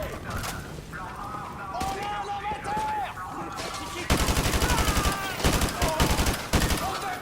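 Rapid automatic gunfire from Call of Duty: Modern Warfare 2 crackles in dense bursts, growing heavier and more continuous partway through, with voices talking over the firefight.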